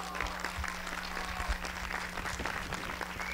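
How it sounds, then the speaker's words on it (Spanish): Audience applause at a 2016 Mexican political rally defending national sovereignty and maize, steady moderate clapping from a crowd with a constant electrical hum underneath. "Un fuerte aplauso, por favor."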